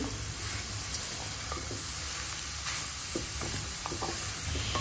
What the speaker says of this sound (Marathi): गॅस पूर्ण फास्ट नाही करायचा, लो टू मीडियम गॅसवरच परतून घ्यायचा आहे आपल्याला।